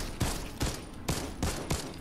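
Weapon gunfire in Fortnite's Zombieland zombie map: five evenly spaced, loud shots at a steady rhythm, each a sharp boom with a short tail, heard alone without talking.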